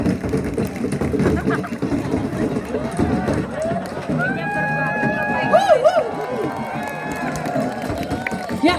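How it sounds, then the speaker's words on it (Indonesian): Crowd applause and cheering at the opening of the Nias Pro 2022 international surfing championship on Nias, a steady mass of clapping mixed with music and a public-address voice running throughout. "Let's give a round of applause to Nias Pro 2022."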